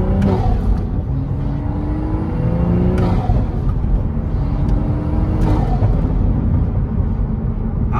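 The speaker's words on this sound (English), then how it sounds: "we'll do a little driving with the windows closed" A 2023 manual Toyota Supra's engine drones steadily from inside the cabin, with a low rumble and rising whine as it accelerates, heard with the windows up.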